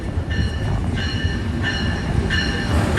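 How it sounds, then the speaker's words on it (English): New York subway train approaching the station: a loud rumbling roar with repeated high squealing wheel tones rising and fading every second or so, with no talking. "A train is approaching."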